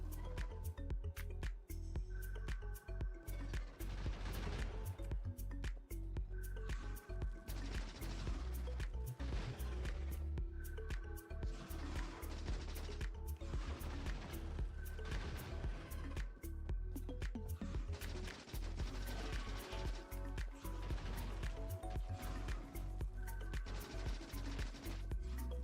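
Rapid gunfire in the Factorio video game as a player shoots at worms, with repeated bursts of shots and impacts spread evenly across the stretch at moderate level, heard alone without talk.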